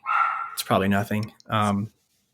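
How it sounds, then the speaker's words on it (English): Dogs barking indoors at home: three loud, close barks in quick succession, then silence. "Sorry about the dogs."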